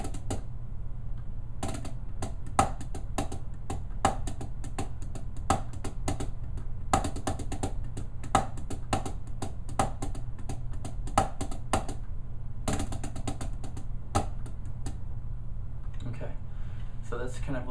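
A drum kit plays a steady shuffle beat, with sharp repeated hits in a bouncing swung rhythm, close and fairly loud, broken by short pauses and continuing alone without talk.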